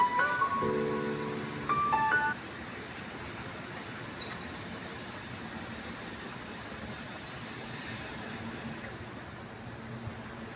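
A train passes a railroad crossing near a veterans field in Rochester, Minnesota: brief ringing warning tones at first, then a steady, rolling rumble of rail cars at a moderate distance.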